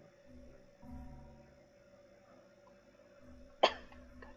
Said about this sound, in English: Why with the coughing?